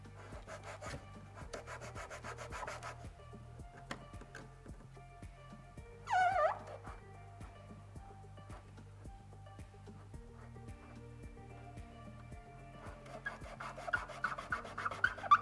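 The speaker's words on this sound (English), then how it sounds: "You can just gently rub it and it will essentially just fall apart." Wet Plastidip coating rubbed off a car by hand, a soft, quiet scrubbing and rasping in intermittent strokes, with a brief louder squeak in the middle and faint background hum.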